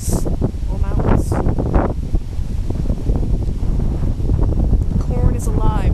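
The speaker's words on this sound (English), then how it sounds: "It's really windy." Strong wind in a flat park buffets the microphone in loud, continuous rumbling gusts, while a person speaks over it with sharp hissing sounds.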